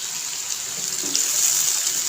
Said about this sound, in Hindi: अब थोड़ा सा लगाते हैं पानी।